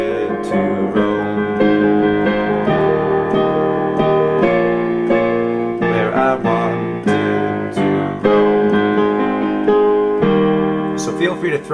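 Piano plays the melody line of a song, a clear, close run of struck notes over sustained chords in a steady rhythm, loud and unaccompanied by talking.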